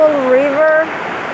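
A river flows over bedrock in a steady, rushing wash of water that continues throughout, with a sustained voice-like tone riding over it for the first part before the water carries on alone.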